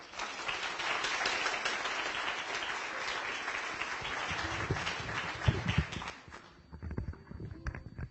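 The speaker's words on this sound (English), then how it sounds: "And one more round of applause for our panel." An audience at a writers festival applauds a panel: dense, steady clapping fills most of the stretch, then breaks apart into a few scattered claps and thumps as it dies away near the end.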